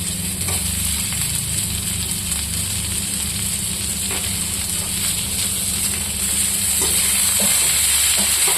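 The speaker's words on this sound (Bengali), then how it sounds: "এটার মধ্যে আমি পেঁয়াজটাও দিয়ে দেবো, পেঁয়াজটা দিয়ে ভাজবো" Onions fry in a pan with a constant, close, fairly loud sizzle and crackle that holds steady throughout, with faint stirring clicks and no talking.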